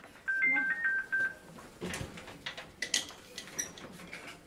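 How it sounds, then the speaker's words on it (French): A care home's resident call-bell telephone rings briefly with a soft electronic tone, a couple of short beeping pulses near the start, followed by clattering and shuffling sounds and a few faint chirps. "C'est le téléphone qui nous dit quand un résident appelle sur une sonnette."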